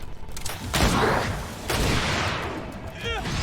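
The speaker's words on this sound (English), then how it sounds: "Watch out! Grenade!" Grenade blast in the video game GreedFall, two sharp loud bursts close together followed by a rumbling boom that trails off, with a voice shouting over it.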